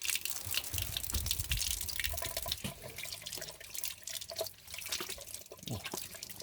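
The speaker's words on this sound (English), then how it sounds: "It's got running hot and cold water, so I can wash my hands outside." Water runs steadily from a tap into an outdoor garden sink with hot and cold supply, a continuous splashing wash with small drips and gurgles, close by and alone.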